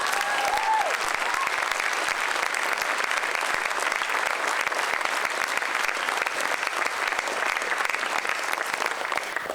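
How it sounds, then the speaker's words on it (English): Loud, sustained applause from an audience at an amateur radio event linking Earth to space, dense rapid handclaps that stay even throughout with no voices over them. "I think they deserve a huge round of applause."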